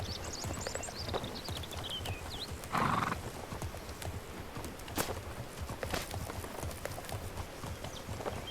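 Steady clip-clop of a ridden horse's hooves in The Legend of Khiimori, a continuous rhythmic trot with a neigh near the start and a brief louder snort or whinny midway, close and clear.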